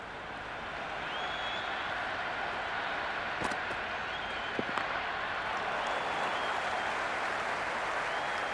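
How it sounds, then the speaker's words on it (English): A broad wash of crowd applause and cheering at a cricket ground in Cricket 26 during a Sri Lanka versus Pakistan match, swelling in and holding steady with a few sharp claps standing out. "the excitement emanating from this crowd at the moment"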